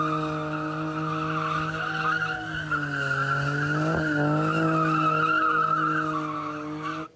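A sports car skids with a loud, sustained tire squeal, a steady engine drone underneath that wavers in pitch, continuous for about seven seconds with no talking.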